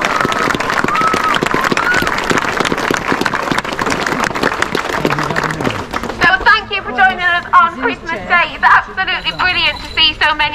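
An outdoor crowd at a Christmas Day parkrun claps for the volunteers, dense hand-clapping filling the first several seconds before it gives way to someone speaking.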